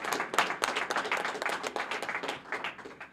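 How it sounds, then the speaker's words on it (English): Audience applause for program funders at the ribbon cutting of the Local 26 Training Center, a lively, fairly dense burst of clapping with distinct individual claps, rising and falling without talk. "Give them a round of applause, please."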